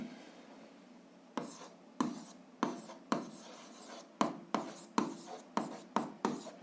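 A pen writes an algebra answer on paper in a series of short, distinct strokes, about a dozen scratchy marks that come faster toward the end, close and fairly quiet with no talking.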